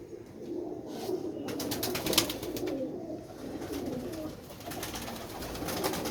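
Sialkoti red-pearl pigeon cooing close by, low repeated throaty coos mixed with rustling and clicking handling noises over several seconds.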